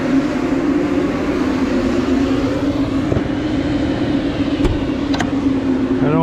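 An excavator's glow-plug diesel engine, started without a block heater in the cold beside a large corn pile, drones steadily and loudly at a constant low pitch while warming up, with faint brief clanks.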